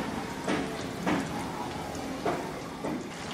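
Fish frying in hot oil in a home kitchen, giving a steady crackling sizzle at close range with a few louder spits and pops along the way, with no voices.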